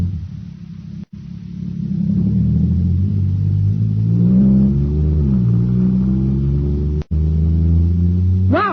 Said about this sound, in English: Wow, this jet cycle is supercharged now.